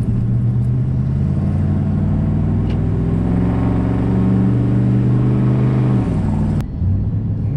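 A Dodge Ram truck with a fully engaged fan clutch climbs a hill, its loud, continuous engine drone and fan roar holding steady tones that rise gradually before a brief dip near the end.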